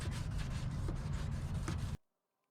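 A foggy, oxidized car headlight is hand sanded with finer grit sandpaper, giving a close, steady rasping rub of quick back-and-forth strokes that stops abruptly into silence.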